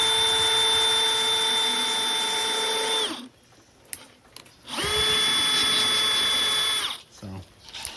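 A power drill with a step drill bit boring through material, giving a loud, high whine that runs for about three seconds, cuts out, then spins up again for a second burst before stopping.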